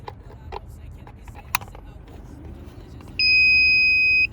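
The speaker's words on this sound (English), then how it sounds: "You will hear a beep" Steady electronic beep, loud and close, from a remote start module for a Hyundai Genesis Coupe key fob as its power cord is plugged in, sounding for about a second after faint handling clicks and taps.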